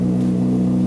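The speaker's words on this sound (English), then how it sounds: "let's turn the bike on, hear how it sounds." A 2013 Honda CBR600RR idles steadily right after starting, a close, even mechanical hum with a constant low pitch throughout the brief moment.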